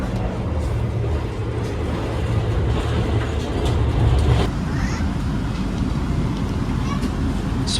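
Taksaka passenger train heard from inside a carriage on the Gambir to Yogyakarta run, a continuous low rumble of wheels on rails with occasional clacks and rattles throughout.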